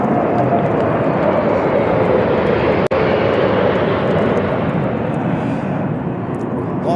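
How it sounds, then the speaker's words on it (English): A presidential jet of 21 Squadron, South African Air Force, arrives at an inauguration ceremony with a loud, steady roar that fills the whole stretch. A single sharp click cuts through about halfway. "let's welcome the formidable, the profound 21 Squadron that transports #1 President of South Africa, Mr. Cyril Ramaphosa."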